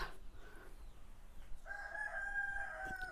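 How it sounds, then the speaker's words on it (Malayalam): A rooster crows once, a long strained call rising and holding, fairly distant over quiet background noise. "ചാത്തപ്പ നിക്ക് കൂവാണ് കേട്ടോ"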